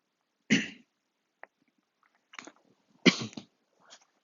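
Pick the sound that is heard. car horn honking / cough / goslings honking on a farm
cough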